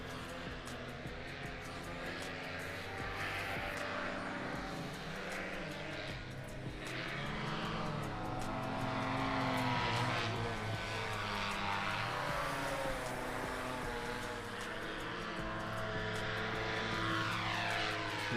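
A paramotor's engine and propeller drone steadily through a slalom run at a competition event, a continuous buzzing hum that swells slightly and stays at moderate distance.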